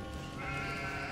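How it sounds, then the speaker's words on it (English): A sheep in the Catherine video game gives one sustained, wavering bleat, close and fairly loud, heard alone without talk. "Those sheep there are talking about climbing techniques."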